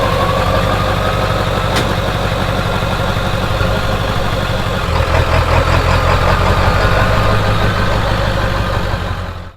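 An OBS truck engine runs steadily at idle in a garage, a loud, close, low rumbling drone that holds evenly throughout with a slight shift midway, and nobody speaks.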